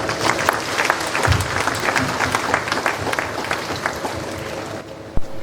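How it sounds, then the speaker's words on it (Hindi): A gathered congregation at a martyrs' memorial event claps warmly to welcome an archbishop, a dense crackle of many hands that fades out at the end, with a sharp thump just before it stops. "जोर से तालियां बजाएं।"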